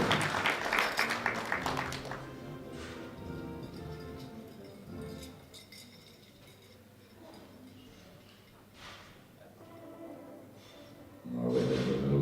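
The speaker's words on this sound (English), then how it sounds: "Round of applause." Audience applause at a European sub-junior and junior equipped powerlifting competition: a burst of clapping at the start that fades into a quiet hall with faint ticks, then another swell of clapping near the end.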